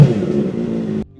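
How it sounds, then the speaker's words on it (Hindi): A Suzuki GSX-R1000RR motorcycle with a titanium Yoshimura full-system exhaust gives a loud, brief rev with a throaty snarl that cuts off abruptly after about a second. "इसके अंदर हम लगाने जा रहे हैं टाइटेनियम योशीमुरा के फुल सिस्टम एग्जॉस्ट।"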